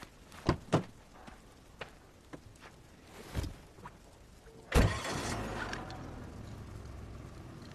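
A car's doors thump shut with a few clicks and knocks, then the engine cranks and starts, settling into a steady running rumble as it pulls away, close and moderately loud.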